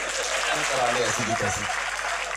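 An audience claps at a Haryanvi comedy show, a short burst of applause mixed with crowd noise while a voice carries on talking over it.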